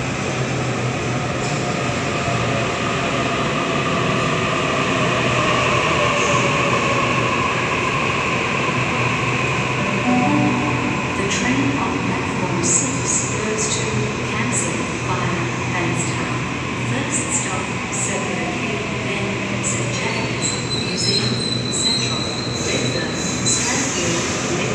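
A Sydney Waratah train on the Campsie via Bankstown service rolls into Wynyard platform 6 with a sustained rumble and high wheel squeals, while a voice is heard over the station noise.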